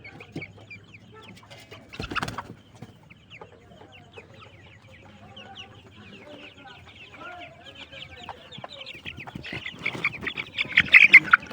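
Twenty-seven-day-old colour bird broiler chickens clucking close by, with repeated short calls throughout that grow louder and busier toward the end, plus a brief rustle early on.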